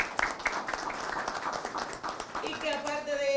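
An audience claps at a training department event, a dense burst of applause running under and alongside a voice speaking over it.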